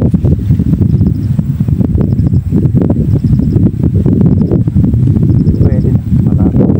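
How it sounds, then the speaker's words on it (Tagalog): Strong wind buffets the microphone continuously, a loud low rumble that never lets up, with faint rustling beneath it. "Maagang lumabas yung hangin."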